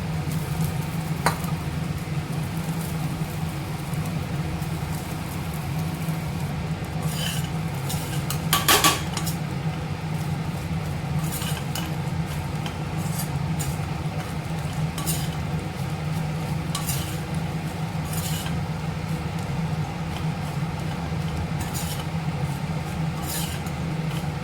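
A spoon scrapes and clinks against a pan as cooled rice is stirred into a fried coriander mixture, a steady rhythm of metallic scraping with occasional sharper clanks, close up and without speech.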